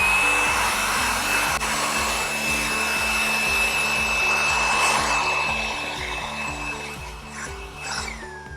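A handheld hair dryer blows dust off a sanded car paint surface before masking for a scratch touch-up. It gives a steady, close whoosh with a fast low flutter, easing slightly toward the end.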